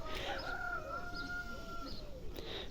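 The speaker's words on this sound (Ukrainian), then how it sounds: "О, тепер півні співають." Roosters crowing in long drawn-out calls, moderately distant, over a steady outdoor background with faint bird chirps.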